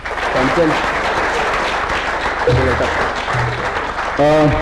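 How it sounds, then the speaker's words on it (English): Applause from an awards-ceremony audience for the four judges, a steady wash of clapping throughout, with a few voices speaking over it near the start, the middle and the end. "A big round of applause for our 4 judges as well"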